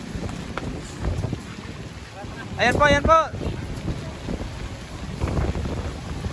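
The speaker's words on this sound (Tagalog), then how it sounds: "Ayan po, lumakas po bigla yung hangin." Gusty wind from Typhoon Carina buffets the microphone with low rumbling noise while a voice speaks briefly in Filipino over it.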